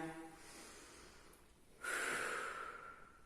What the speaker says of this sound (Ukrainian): Ще носики вдихають, ротики видихають.